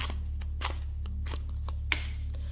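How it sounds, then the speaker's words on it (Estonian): Twin flame oracle cards are shuffled by hand, a series of soft papery riffles and flicks repeating in short bursts over a steady low hum. "Ma võtan siit mõned oma kaksikleegi kaardid ka."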